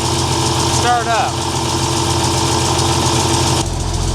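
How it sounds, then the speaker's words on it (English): A John Deere 4430 tractor's diesel engine turns over and settles into a steady, rumbling idle, loud and close, with a brief squeal near the start and a shift in tone near the end. "The 4430 just need a little extra incentive to want to start up."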